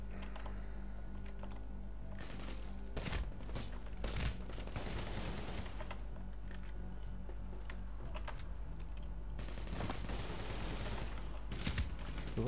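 AKM rifle fire in the Medal of Honor Warfighter video game, sustained bursts of automatic shots crackling over a steady low game rumble, with denser volleys toward the end.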